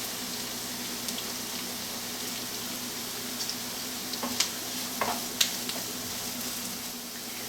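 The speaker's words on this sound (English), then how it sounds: "so we're going to go ahead and add the shallots" Shallots sweating in a hot pan alongside already-softening ingredients, a steady low sizzle with a few light stirring scrapes and clinks, no voices.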